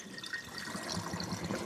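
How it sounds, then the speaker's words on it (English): Cold tap water running into a strainer of rinsed potatoes in a kitchen, a short steady splashing rush, fairly quiet and without talk. "run some cold water"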